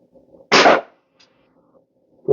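Single sharp gunshot from morning target shooting with a small rifle, loud and close against a quiet outdoor background, followed by near silence and the onset of another shot at the very end.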